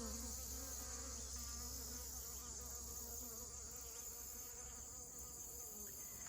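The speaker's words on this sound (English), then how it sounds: "Take a look here at the honeybees in the watering hole." Honeybees buzz at a watering hole in mid-September, making a steady, faint, continuous drone that holds evenly from start to finish, with no voices heard.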